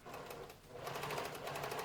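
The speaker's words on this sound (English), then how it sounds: "there we go, all pinned over to the sewing machine, and let's sew this in" A sewing machine stitching hem trim onto a sweater, a rapid even mechanical whirring patter, close and steady throughout the short burst.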